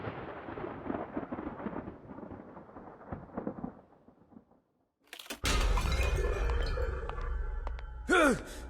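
Stormy night in the game Identity V: a soft rumbling music-like bed gives way to a brief lull, then a sudden loud crash of thunder with heavy broadband roar and rain-like wash that persists, capped by a sharp rising shriek near the end.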